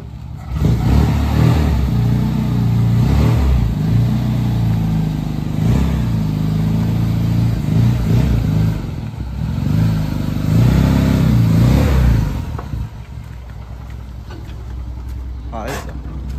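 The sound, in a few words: owner-type jeep engine revving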